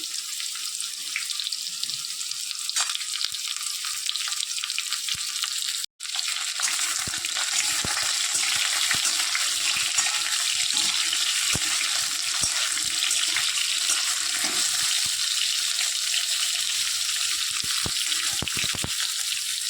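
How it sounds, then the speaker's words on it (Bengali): Long strips of papaya frying in hot oil in a pan, a steady, dense sizzle that carries on evenly throughout with a brief break partway through. "এবারে পেঁপেগুলোকে আমি লাল লাল করে ভেজে নেব"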